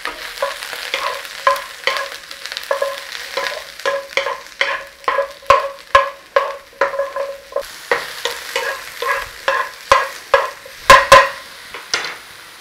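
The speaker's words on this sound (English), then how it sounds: "Then we're going to fry the beef" Beef strips stir-fried in a pan sizzle under a steady rhythm of spatula scrapes and tosses, roughly one stroke every half second, each stir bringing a fresh burst of crackle.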